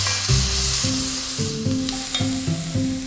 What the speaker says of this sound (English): Now add 2 large sliced onions and 2 cloves of garlic. Give that a good stir round.